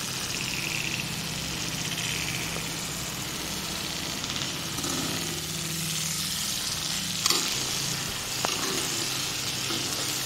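Garlic chicken kasa sizzles steadily in a pan as it is stirred and fried, a continuous close hiss with an occasional sharp scrape of the spoon and no talking.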